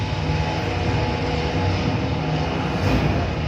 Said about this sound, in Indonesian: helikopter Basarnas kembali tiba di lokasi dan bersiap-siap